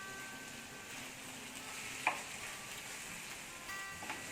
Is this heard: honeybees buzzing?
no